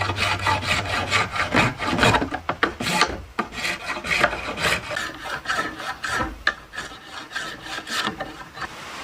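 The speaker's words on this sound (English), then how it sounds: "I'm going to use my spoke shave for that." Spokeshave shaving the wooden handle of a hunting atlatl, giving a close series of quick rasping strokes in an irregular rhythm with short pauses between them.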